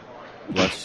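A single sharp sneeze bursts out after a stretch of quiet room tone, brief and fairly close, during a live talk show broadcast.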